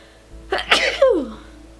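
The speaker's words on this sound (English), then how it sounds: "Ooh, I have to sneeze." A single close sneeze with a sharp intake of breath, followed by a brief trailing vocal sound, in an otherwise quiet room.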